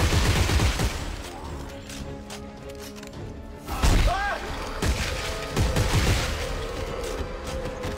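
Gunfire in the sci-fi horror game Dead Space 3 fills a loud, busy soundscape, repeated shots and impacts over a constant rumbling game backdrop, with a voice briefly heard amid the action.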